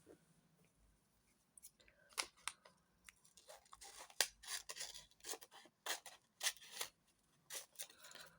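Scissors snipping through paper while trimming an upcycled papercraft envelope, a run of short, close, crisp cuts arriving in irregular bursts with brief pauses between them.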